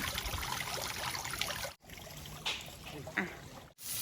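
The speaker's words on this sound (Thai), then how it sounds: "ดูน้ำตกนะคะ" A small garden waterfall pours outdoors with a steady broadband rush. A voice speaks briefly over it, and there are a couple of short dips in the flow sound.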